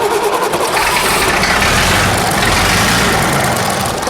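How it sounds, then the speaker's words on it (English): A Matador truck's newly installed engine is cranked, struggling to catch: a loud, continuous rough churning and rumble held steady throughout, close up and alone. "the boys have now completely installed the engine, linkages and transmission. But the big question is, will it fire?"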